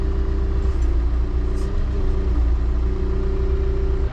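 A giant compact wheel loader's engine idles in a steady, close low rumble with a faint mechanical clatter, running continuously without any talk.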